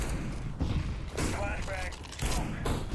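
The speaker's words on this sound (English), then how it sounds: "Grenade out." In Counter-Strike 2, a grenade explodes amid rolling booms and bursts of gunfire, with radio-style voices talking throughout the loud game audio.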